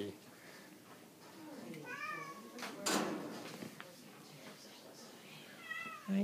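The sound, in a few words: cat meowing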